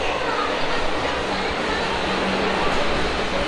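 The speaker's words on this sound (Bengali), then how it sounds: "এই সেই মেট্রো" Steady broadband rumble of a Kolkata metro train running in a tunnel beneath the Hugli river, a constant moderate roar throughout with no clear voices.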